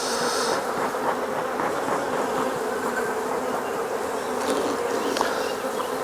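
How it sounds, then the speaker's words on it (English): Honey bees buzz in a dense, continuous drone during a hive inspection, many insects humming together close by with no voices. "you'll end up with a handful of bees and they're perfectly fine"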